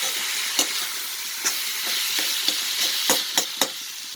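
Tomatoes and curry leaves sautéing in a pan for a spicy Andhra-style country chicken dish, a continuous sizzle broken by repeated short scraping strokes of stirring, close and fairly loud.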